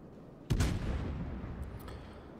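A heavy naval gun salvo from the Graf Spee in World of Warships booms once, loud and close, then rumbles out in a long, fading low roar.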